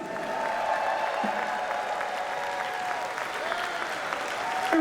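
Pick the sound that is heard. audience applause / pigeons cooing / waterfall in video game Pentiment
audience applause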